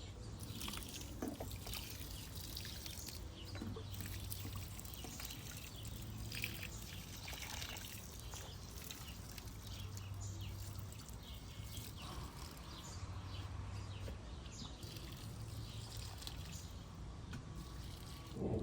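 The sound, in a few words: watering can pouring comfrey fertilizer on bean plants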